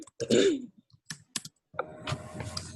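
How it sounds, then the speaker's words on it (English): Keys being tapped on a computer keyboard during an online Spanish class, a few quick, close clicks in short bursts with a brief cough-like sound and some faint talk. "it's hard for me to remember to put accents when I'm typing"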